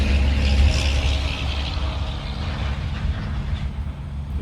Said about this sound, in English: pardon the traffic